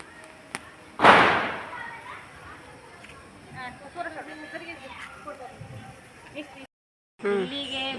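One Diwali firecracker bursts with a single sharp bang early on, followed by a scattering of fainter pops and nearby people talking.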